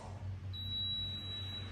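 A rice cooker's single high, thin electronic beep on being switched on sustains for over a second over a low background hum, with no talking.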